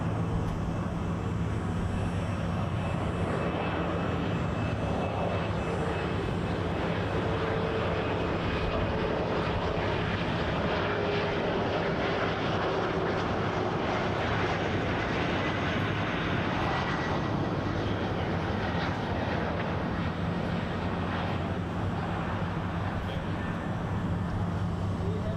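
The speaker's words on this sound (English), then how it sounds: "RJ 700. PSA Airlines 5665 from Washington, Ronald Reagan" PSA Airlines CRJ700 regional jet from Washington Reagan arriving on runway 24L at Toronto Pearson, a steady loud jet roar with a thin whine, close and unbroken.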